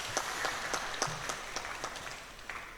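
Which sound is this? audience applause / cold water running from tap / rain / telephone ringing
audience applause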